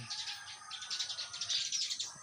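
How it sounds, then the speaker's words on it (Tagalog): Birds chirp and twitter continuously in a dense, bright chorus, moderately close, with no voices over them. "yung mga ibon-ibon dito"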